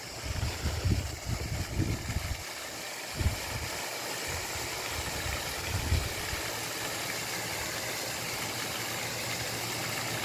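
A pond fountain aerator runs with a steady, broadband rushing wash of spraying water, joined by some low rumbling gusts near the start and a faint hum later, with no voices.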